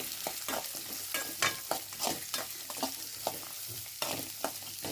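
Two medium chopped onions frying in oil in a pan, a close crackling sizzle with frequent scraping and clattering stirs in an uneven rhythm.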